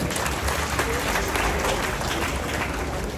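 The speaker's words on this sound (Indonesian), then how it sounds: "Beri tepukan kepada Sabah Credit Corporation." A crowd at a Kaamatan festival launch applauds Sabah Credit Corporation, with continuous loud, even clapping over a steady background hum throughout.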